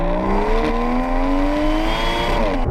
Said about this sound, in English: So the exhaust, can you hear that?